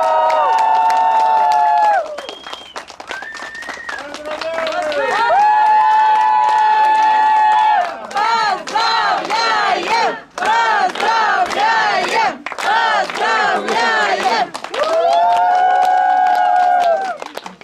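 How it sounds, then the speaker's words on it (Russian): Wedding guests cheer, shout and whoop loudly for the arriving couple, a dense crowd roar with applause rising and falling in waves over many seconds, close and energetic. "Встречаем бурными овациями!"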